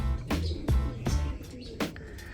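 Racing pigeons in a loft give soft, low cooing in close, quiet bursts, with a few sharp flutters or clicks and no voices.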